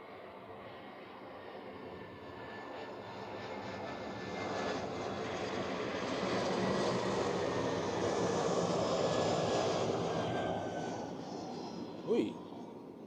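A jet airliner landing at Zurich Airport, its engine roar swelling from a distant whine to a strong midpoint rush and then easing off, with a brief thump near the end.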